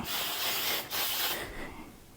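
Hairspray from an aerosol can sprayed in sweeping passes the way spray paint is applied, a steady close hiss lasting about two seconds with a brief break in the middle, no voices.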